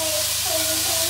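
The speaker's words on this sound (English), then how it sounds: "Now I'm gonna add the veggies in here." Chopped vegetables hit a hot pan for a vegan pulao, setting off a loud, continuous sizzling hiss, with a faint voice murmuring underneath.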